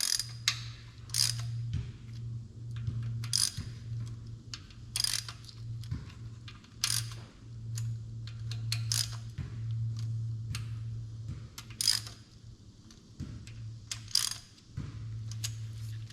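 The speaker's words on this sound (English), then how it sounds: "then we'll just snug it down with the ratchet for now" A ratchet snugs down bolts on a Chevrolet Silverado engine under assembly with a new cam, giving repeated quiet clicking bursts in short runs close by, with brief sharper metallic taps between them.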